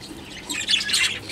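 Three newly hatched bird chicks give high, thin cheeping calls, close and overlapping, rising in a brief flurry.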